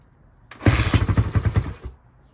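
A freshly built SSR YX140 pit bike engine fires up and runs for about a second and a half, a close, loud, choppy single-cylinder putter that then cuts out to near silence.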